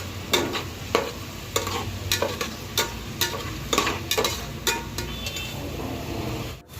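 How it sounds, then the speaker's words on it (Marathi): Onions sauté in hot oil, a close frying sizzle under repeated rhythmic scrapes of a spoon stirring the pan, with no talk. "कांदा आपल्याला चांगला परतून घ्यायचा आहे."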